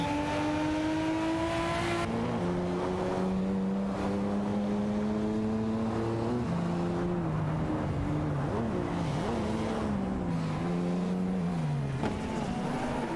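Racing cars lapping Imola in a racing video game, engines whining through rising and shifting gear notes, several cars blending in a continuous loud drone with no commentary heard.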